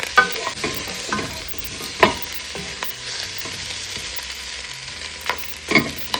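Beef pieces browning in a pot for Jamaican stew peas sizzle steadily up close, with repeated scraping stir strokes and sharper clinks on top of the constant frying hiss.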